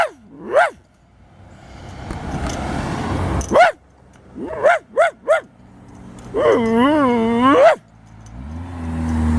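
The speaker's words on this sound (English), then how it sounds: "just a dog barking" A dog barks and yelps nearby in sharp, rising calls, first single barks, then a quick run of three, then a long wavering howl-like whine, over a low rumbling background like a passing car.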